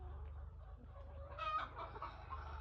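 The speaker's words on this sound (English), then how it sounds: "All those chickens where you dey see for here, so they live for here." Chickens cluck softly in a farmyard, a few short clucks and a brief louder squawk over a low steady background hum, fairly faint.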